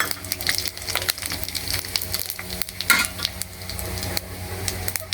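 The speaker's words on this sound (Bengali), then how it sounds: "পাঁচফোড়ন দিয়ে দিলাম" Panch phoron spices sizzle and crackle in hot oil, a steady close frying hiss with sharp pops and stirring scrapes, while whole garam masala fries for a Janmashtami khichuri.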